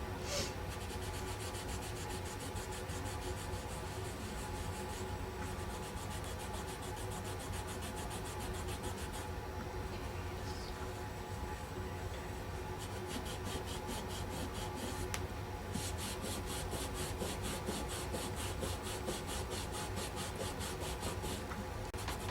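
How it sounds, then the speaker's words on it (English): Paint being wiped off a wooden welcome sign with a moist baby wipe, a steady scratchy rubbing in repeated back-and-forth strokes, close and fairly quiet, with no talking. "I think if I had started wiping this off while it was still more wet, this would be a little easier"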